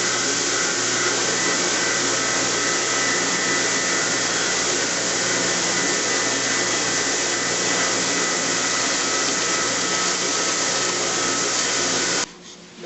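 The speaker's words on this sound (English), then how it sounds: "Now I'm going to use the edge sander to get one edge nice and true so that I can later on saw." An edge sander trues the edge of a bent wood lamination, holding a loud, steady whirring roar with a grinding texture for about twelve seconds before cutting off abruptly.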